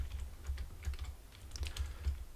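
Quiet, steady keystrokes on a computer keyboard, a soft run of taps in a loose rhythm, close and alone.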